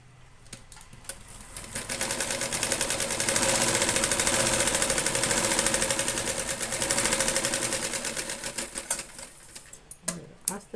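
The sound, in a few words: sewing machine stitching blouse lining seam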